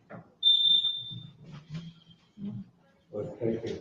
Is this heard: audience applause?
no